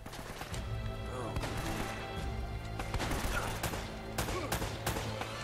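Rapid bursts of gunfire from a firefight in Uncharted: Drake's Fortune, sharp repeated shots over a rumbling background, fairly loud and continuous with no clear speech.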